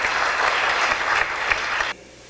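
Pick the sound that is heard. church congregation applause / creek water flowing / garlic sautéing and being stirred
church congregation applause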